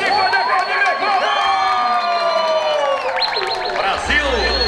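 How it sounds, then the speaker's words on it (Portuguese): Crowd at an amateur vaquejada rodeo in a Brazilian cattle-riding arena cheering and whooping loudly, with shouts and excited voices swelling over a continuous roar of noise, brief clapping near the end. "pode aplaudir, pode aplaudir, meu povo!"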